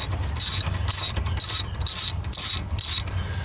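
Ratchet wrench turning a bolt on a Honda GX160 engine, loud close clicking in rapid bursts about every half second, repeated back-and-forth strokes with no talking.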